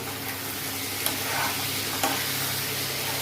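Spoon stirring potatoes in a frying pan for aloo dum, a steady close sizzle with a couple of faint scraping strokes, no talk.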